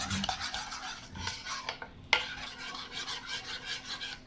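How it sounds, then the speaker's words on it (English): Seasonings and sauces are stirred together in a bowl, with a soft, continuous scraping and rubbing of a utensil and one sharper clink of metal against the bowl. "Now we're going to mix all of the seasonings and sauces together very well."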